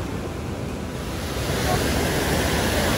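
Clear mountain water pours over a small step in a flooded stream near Manavgat, Antalya, Turkey, a constant rushing roar heard close, with some wind noise on the microphone.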